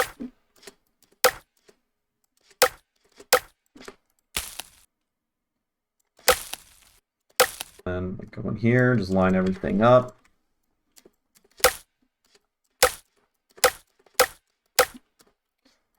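Glitch-hop snare drums layered with Foley samples hit as sharp, dry, isolated strikes in an irregular sequence, broken midway by someone talking.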